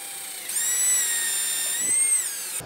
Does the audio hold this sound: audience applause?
no